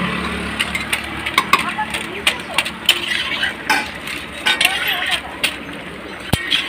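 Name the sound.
stirring meat in cooking pot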